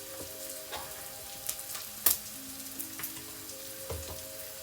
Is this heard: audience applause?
no